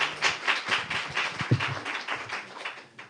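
Applause at a conference on small and medium-sized cities in the Baltic Sea region, a sparse, fairly quiet patter of individual claps from a small audience with a pulsing rhythm.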